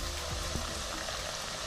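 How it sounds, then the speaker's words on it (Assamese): Butter heats into ghee in a wok, a faint, steady bubbling sizzle with a couple of light scrapes, quiet and without any talking. "এয়া বাটাৰখিনি ওলোৱাৰ পাছত কেৰাহীত দি দিলোঁ"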